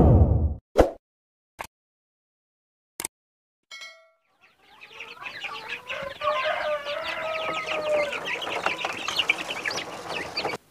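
Several sharp clicks and a short electronic beep, then a dense flock of kampung chickens clucking and squawking continuously, busy and close.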